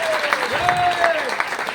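Brief burst of audience applause for T.C. Chhabra at an RCM marketing plan seminar, clapping under a voice with a sustained ringing tone.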